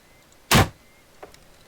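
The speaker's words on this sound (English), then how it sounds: "So if I shoot this crossbow just like some direction here, do they hear this?" Crossbow fired in the hunting game Way of the Hunter: a single sharp, loud thump-snap, followed by a fainter short click a moment later, heard alone.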